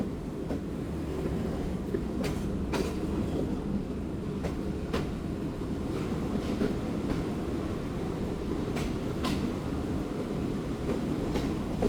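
Zakariya Express passenger train rolling along between Ghotki and Sadiqabad, a steady continuous rumble of wheels and carriages with occasional sharp clicks of rail joints, heard from inside the moving train.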